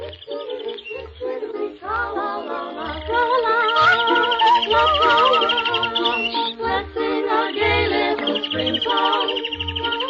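Birdsong fills a spring forest in an old radio drama, with many chirps and warbling calls layered densely and steadily, rising louder after a few seconds and continuing throughout.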